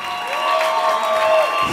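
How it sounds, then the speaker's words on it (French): A church crowd cheers and applauds at a night-time season vigil, a loud, steady wash of voices and clapping that runs throughout with a sustained musical tone over it, then thins out at the end. "sous vos acclamations."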